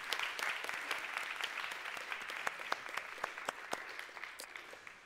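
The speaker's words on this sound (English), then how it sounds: "Let's have a round of applause for these fine folks" A church congregation at a Sunday worship service applauding, dense steady clapping from many hands that fades slightly toward the end.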